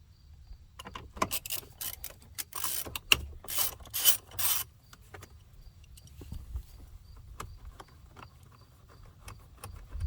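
A ratchet fitted with a T30 Torx bit backing out a screw on a 2007–2014 Toyota Tundra, rapid clicking pawl bursts in short close runs, then quieter scattered ticks.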